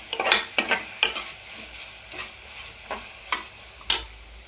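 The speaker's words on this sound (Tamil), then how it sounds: "இப்போ வந்து கட் பண்ணி வச்சுருக்கிற சின்ன வெங்காயம், தக்காளி, கருவேப்பிலை எல்லாமே நான் ஒன்றா ஆட் பண்ணிக்கிறேன்" Chopped shallots, tomatoes and curry leaves sautéing in a pan, heard as a run of sharp stirring scrapes and clinks over a low sizzle, repeated irregularly and close by, with no talking.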